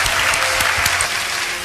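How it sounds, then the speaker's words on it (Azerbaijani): Warm audience applause for a female guest at a music performance, steady crowd clapping with a few louder individual claps, easing slightly toward the end. "Gəlin Lamiyə xanım üçün bir gözəl alqış göndərək."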